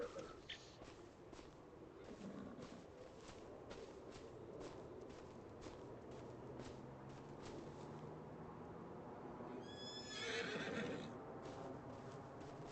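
Horses in Farming Simulator 25 whinny in a shrill, quivering call near the end, over a steady shuffle of hooves and clip-clopping footsteps throughout.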